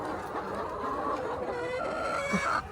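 Chickens in a small backyard poultry farm clucking and calling steadily at close range, with layered overlapping hen sounds and a brief louder squawk near the end; no one speaks.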